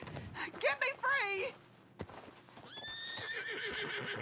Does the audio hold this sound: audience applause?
no